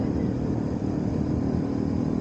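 BMW R1100S motorcycle on a mountain ride in Wales: a steady, loud engine drone with broad rumbling roar and wind noise, continuous throughout.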